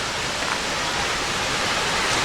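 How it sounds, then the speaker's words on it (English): Water from a stream rushes steadily near the remains of an old dam in Valley Forge National Historical Park, a continuous broad hiss-like roar, close and even, with no voices. "I thought I heard water down here."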